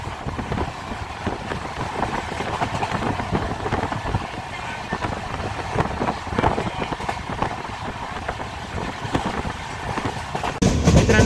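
Inside a moving passenger train, a continuous loud rumble of wheels on track carries on with faint rattling and clacking throughout.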